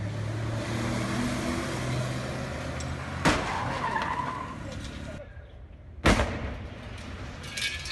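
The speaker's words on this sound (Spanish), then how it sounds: "La explosión provocada por el choque entre dos autos cimbró las paredes y ventanas de varios negocios y hogares de la colonia Doctores" Filmed footage of a crash and explosion between two cars in the Doctores neighborhood of Mexico City, heard as a continuous loud roar with two sharp bangs, the second one after a brief quieter gap.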